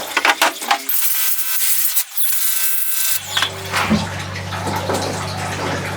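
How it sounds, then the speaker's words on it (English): Water sprays hard to wash old emulsion out of a screen printing screen, a loud rushing splash that keeps going as a low steady hum joins partway through. "So I'm gonna wash that out really quick"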